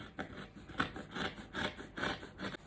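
Fabric scissors snip out a curved pattern piece for a princess-dart gown, giving a run of short, close crisp cuts with faint rustle between them and no talking.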